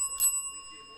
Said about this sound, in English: Will it be attracted to the sound of a bell?